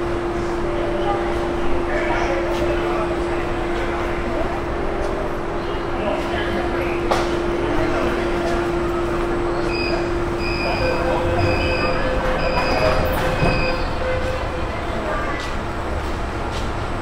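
A crowded long-distance passenger train from Bangalore to Delhi rolls along the rails with a steady, continuous rumble and a low droning hum heard from inside the coach, with faint voices and chatter underneath.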